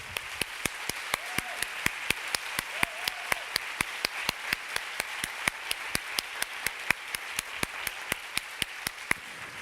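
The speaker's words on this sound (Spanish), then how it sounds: "Les damos un fuerte aplauso a todas ellas." A conference audience applauds the panel speakers, a steady run of sharp claps that keeps going for several seconds at a fairly even pace.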